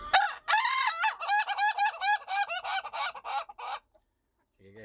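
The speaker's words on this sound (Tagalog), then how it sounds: "Ngayon lang ako nakakita ng ganitong manok guys na tumatawa sila lagi guys." Chickens, the so-called laughing chickens, cackle and crow in a long rapid run of rhythmic, laugh-like calls, loud and close, then fall silent before a short new sound at the end.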